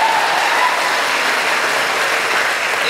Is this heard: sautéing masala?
no